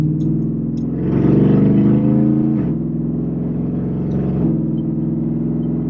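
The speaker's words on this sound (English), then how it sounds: "loud when you're accelerating from a stop, I'm not gonna lie" A modded Ford F-150 pickup pulls away from a stop, its engine rising in pitch through one gear, dropping briefly at a shift, then climbing again. The loud, close exhaust drone stands alone without speech.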